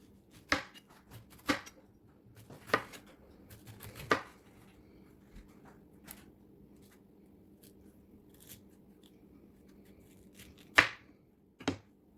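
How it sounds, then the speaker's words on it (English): A knife slices through a trimmed pineapple on a cutting board: about half a dozen sharp, crunchy cuts at irregular intervals, close and clear over a faint hum, with quieter scraping between them. "Next up, slice the pineapple."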